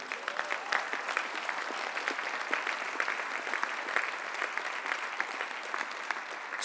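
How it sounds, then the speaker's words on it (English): Steady applause from a trade union congress audience at its annual conference, dense and even clapping that runs throughout at moderate level with no voices on top. "I think we should applaud Gary Lineker for speaking out."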